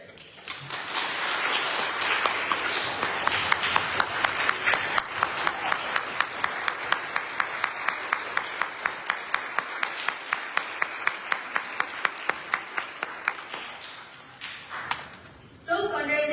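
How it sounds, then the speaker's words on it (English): A large crowd at a graduation and award ceremony gives a standing ovation, applauding loudly and steadily, the clapping settling into a rhythmic, synchronized beat before fading out near the end. "Join me in a standing ovation for the commitment to servant leadership."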